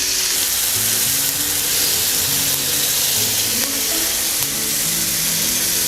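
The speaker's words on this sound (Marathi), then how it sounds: "दोन्ही बाजूनी हे पनीरचे पीसेस आपण चांगले भाजून घ्यायचे आहेत" Paneer pieces frying in oil in a pan over a low gas flame, giving a steady, close sizzle that runs unbroken throughout with faint clinks and stirring underneath.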